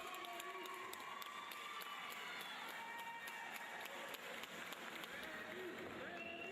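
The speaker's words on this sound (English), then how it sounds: "Listen to how I turned this crowd" A crowd in the NBA 2K25 basketball video game roars and cheers as a continuous wash of shouting and applause, faint and steady throughout, with speech mixed in.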